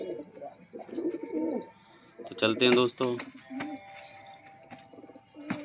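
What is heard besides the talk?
pigeons fighting and cooing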